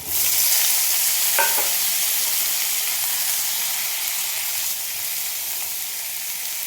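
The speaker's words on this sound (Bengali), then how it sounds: "আলু আর ঝিঙে কেটে নিয়েছি, এইগুলো আমি দিয়ে দিলাম।" Sliced potatoes and ridge gourd fry in a hot pan with a loud, steady sizzle and hiss that carries on for the whole stretch, close up and with no voices.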